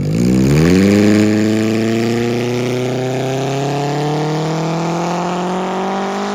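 A four-wheel-steering hot rod launching down a drag strip, engine note climbing steadily from a low rumble into a loud, sustained high-revving roar heard close, with no voices.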